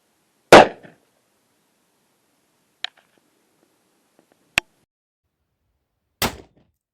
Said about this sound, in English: 10-yard shot. The 3 times defense Hornady round for her pleasure.